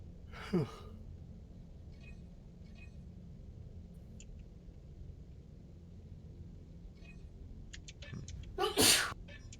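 A single person sneezes sharply near the end, following a faint earlier breath-like burst, over a low steady room hum during a relaxed gaming chat.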